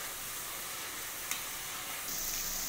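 Masala fries in oil for matar paneer and is stirred as it cooks, giving a steady close sizzle and hiss throughout with one small clink near the middle.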